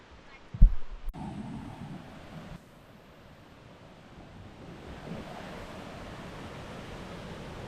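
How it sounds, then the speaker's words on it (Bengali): Jonha Falls near Ranchi gives a faint, steady rush of falling water, heard from a distance, after a brief knock near the start. "অবিরল জলপ্রপাতের শব্দ"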